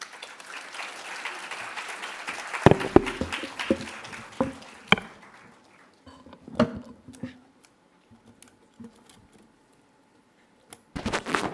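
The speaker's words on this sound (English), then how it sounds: "So please motivate them by clapping." An audience claps at a RISC-V technical symposium, scattered applause that starts fairly full, thins into sparse individual claps and brief pauses, then swells briefly again at the end.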